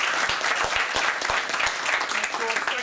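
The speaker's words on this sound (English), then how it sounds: "Big round of applause for Alex for putting this event on again." An audience applauds the organizer at a technology presentation event. Dense, steady clapping from a roomful of people fills the whole stretch at an even level.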